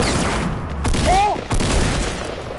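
A grenade goes off in a duos match of a shooter video game, a loud broadband blast set amid a clatter of gunfire, with a brief tonal whine and a second burst following close behind.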